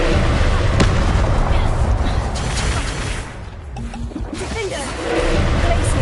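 A fiery Confringo spell in Hogwarts Legacy detonates in a loud roaring burst. Crackling blasts and rumbling debris fill the scene, then briefly ease before the noise swells again.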